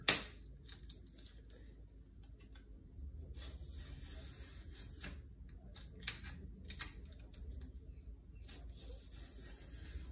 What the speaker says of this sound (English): So I'm just kind of cutting some grooves out here. Not cutting through it.